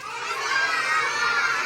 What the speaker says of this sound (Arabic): رائع، صفقوا لحمزة